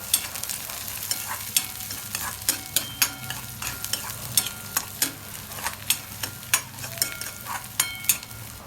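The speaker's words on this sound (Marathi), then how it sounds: "मिरच्या टाकून द्यायच्या हिरव्या म्हणजे ते कांद्याबरोबर चांगल्या अशा फ्राय होतात" Onion and green chillies fry in oil in a pan for egg bhurji, a steady sizzle punctuated by regular sharp scrapes and clinks of a spatula stirring against the pan.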